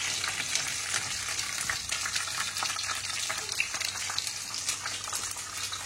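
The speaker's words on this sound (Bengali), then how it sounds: "এবার ভাজবো হচ্ছে আমি চিকেন উইংস, আদানা কাবাব, বিফ" Chicken wings, adana kebab and beef frying in hot oil for an iftar meal, a loud continuous close sizzle with no pauses.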